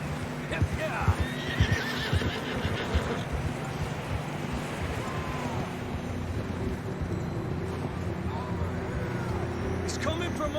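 Horses whinnying and clip-clopping in the video game Red Dead Online, with neighs standing out over steady hoof and wind noise and people talking throughout.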